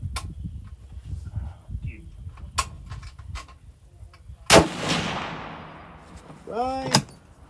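Bergara B14HMR rifle fired during load testing outdoors: a single sharp, loud shot with a long decaying echo, preceded by quieter clicks and handling knocks, with a brief chirping sound near the end.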